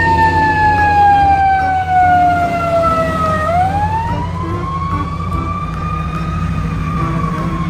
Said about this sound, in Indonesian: Yang terakhir ada mobil ambulans teman-teman.